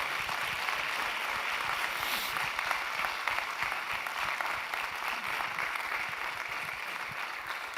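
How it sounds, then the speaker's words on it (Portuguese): A church congregation applauds the Lord during a service honoring a deacon couple's 25th wedding anniversary, producing steady, dense clapping that fills the room evenly and stays at a constant level throughout. "E aplauda o Senhor."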